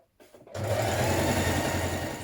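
Sewing machine running a long straight stitch on a dress bodice: a brief hesitant start, then a steady, loud, close motor hum with fast needle chatter.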